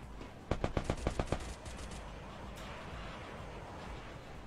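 A rapid burst of about seven sharp gunshots in the video game Free Fire rings out in quick succession, then only a steady low background hum remains.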